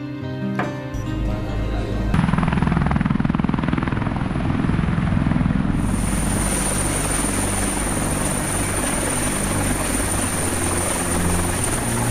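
A military helicopter flying close, its loud continuous rotor thump and turbine whine swelling in after a brief stretch of music and holding steady for ten seconds.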